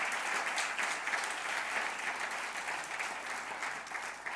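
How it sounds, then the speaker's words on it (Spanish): Church congregation applauding together during a sermon, a steady, dense wash of clapping from many hands that holds evenly throughout, moderately loud with no voices on top. "Denle un lindo aplauso al Señor."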